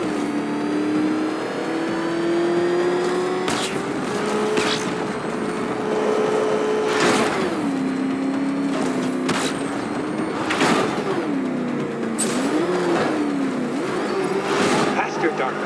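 The Batmobile engine in Batman: Arkham Knight roars steadily, its pitch rising and falling through gear shifts, with sharp impact bursts spread throughout, loud and close.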